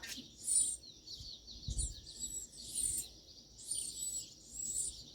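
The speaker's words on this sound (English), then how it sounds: "These birds are freaking me out a little bit. They're flying awfully close to me." Small birds chirp and call in repeated bright bursts as they fly close past a front porch, the tweets coming in a steady rhythm over faint outdoor background and a soft thump.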